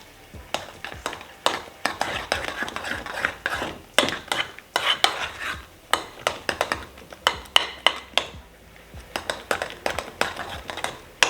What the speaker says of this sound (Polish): Żelatyna gotowa, przelewamy ją do sera małymi porcjami i od razu mieszamy wszystko.